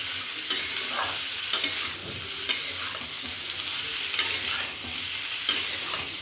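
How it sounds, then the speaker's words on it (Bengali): Potatoes are fried in a pan for a Bengali aloo posto with poppy seeds, a steady sizzle broken by five or six sharp scraping strokes of a spatula, close and moderately loud. "আবার একটু ভাজা ভাজাটা হোক।"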